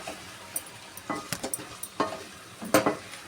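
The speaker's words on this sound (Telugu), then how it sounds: "సరిపడా సాల్ట్ వేయాలి. వేసి ఇవన్నీ బాగా కలుపుకోవాలి." Chicken pepper fry being stirred with salt and spices in a pan, a run of scraping, clattering strokes over a low sizzle, close and moderately loud, with no talking.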